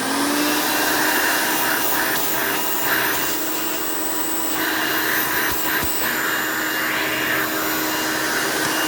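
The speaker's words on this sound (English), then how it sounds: "Because this is a direct air-based vacuum, the suction is pretty low." A Hoover Elite 5.0 upright vacuum runs with its hose attached, a loud, steady close-up roar and whine that holds without pause.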